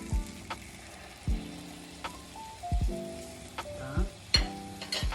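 Broth poured into shrimp risotto simmering in a pan with paprika, soft bubbling and sizzling with scattered clinks and stirring scrapes, fairly quiet, no talking.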